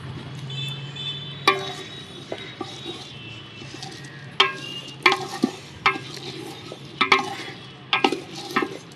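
Vegetables for a mixed-vegetable khichuri fry in a pan over a strongly burning stove, a steady low sizzle broken by sharp, close stirring scrapes and clinks of a spoon against the pot.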